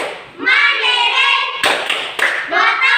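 A standing group claps out the PPK clapping chant in a classroom, with sharp clap bursts breaking up loud rhythmic chanting voices nearby.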